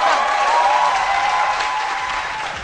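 A television studio audience applauds for a young performer, a dense and fairly loud burst of clapping that fades slightly toward the end.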